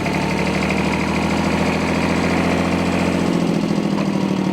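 A 1957 Porsche P133 diesel tractor with a five-speed transmission and 42 horsepower runs in second gear, its engine chugging with a steady, loud, knocking rhythm close by, shifting slightly near the end.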